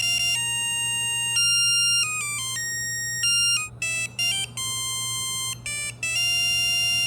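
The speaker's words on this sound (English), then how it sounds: "I can make an automation to play a song on the buzzer when a button is pressed." A small buzzer on a DIY smart home sensor plays a song triggered by a button press, a run of bright electronic beeping notes changing pitch in a melody, close and loud over a steady low hum, with brief pauses between phrases.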